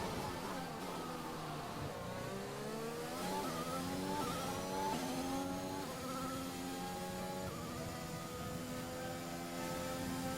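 Formula One car engine screaming around the Baku street circuit in the racing game F1 2021, shifting through rising and falling high revs with harmonic whine, loud and continuous with no talk.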